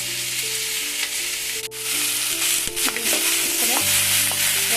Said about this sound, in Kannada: ಈ ಕಡೆ ಒಣಮೆಣಸು ಫ್ರೈ ಆಗ್ತಿದೆ ಸ್ನೇಹಿತರೆ